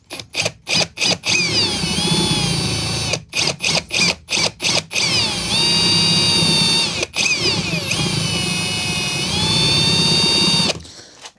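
A power drill boring holes in a guitar amplifier chassis, near and loud, with several short bursts followed by long whining runs as the bit strains and shifts pitch against the metal, ending abruptly.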